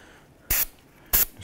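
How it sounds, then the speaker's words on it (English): Two short bursts of solvent spray hit a Toyota Camry oil filter housing during a 2012-2017 Camry oil change, each a sharp hiss about a sixth of a second long, close and loud. "Just give it a spray down with some solvent."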